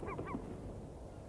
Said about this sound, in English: Ivory and glaucous gulls pick over the bones.